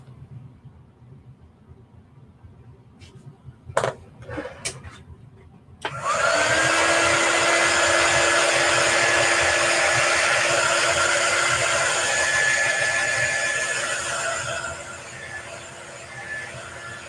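Hair dryer blowing on chalk paste over a welcome sign on a box frame, a few faint clicks then a loud, steady whooshing whine switching on and running continuously close by.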